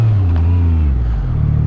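Yamaha MT-09 SP motorcycle engine revving up close, a loud steady growl with a rising-then-falling pitch sweep, continuous for under two seconds.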